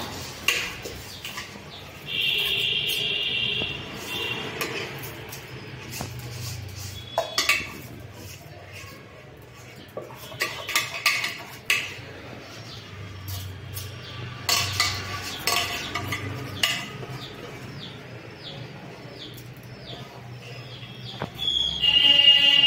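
Uncooked rice tipped into a large pot for a two-and-a-half-kilogram biryani, giving scattered pattering rustles and metallic clinks and scrapes that come in uneven bursts at close range.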